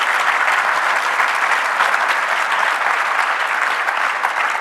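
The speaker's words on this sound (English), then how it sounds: "Please give a warm round of applause for our panelists." A conference audience applauds a panel of speakers in a steady, dense wash of clapping that holds at full strength throughout without pause.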